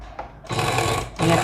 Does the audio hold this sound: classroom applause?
no